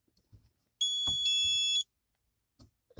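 Autool X60 and X70 OBD2 gauges give one clear electronic beep lasting about a second after being plugged into a car's port, with faint clicks and handling sounds around it.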